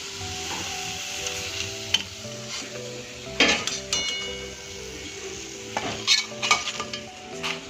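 Potato fries (aloo fries) frying in hot oil, a loud continuous close sizzle with occasional clinks and scrapes of a utensil against the pan.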